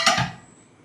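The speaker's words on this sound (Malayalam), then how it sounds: "ചിക്കൻ വറക്കാനുള്ള പാത്രം അടുപ്പത്ത് വയ്ക്കുന്നു." A single short metallic clank sounds as a frying pan for chicken is set down on a stove, ringing briefly up close before fading out.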